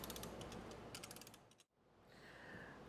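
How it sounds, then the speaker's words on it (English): A torque wrench ratchets bolts down to 18 foot-pounds on a 12 valve Cummins engine build, giving a dense run of close clicking pawl ticks, a brief pause, then more quieter ratcheting. "we'll torque them to 18 foot-pounds"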